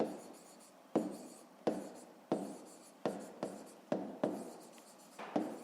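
Pen on paper while a fifth-grade math exercise is written out by hand: close, quiet scratchy strokes in a rhythmic series of about nine taps and scribbles, with no talking.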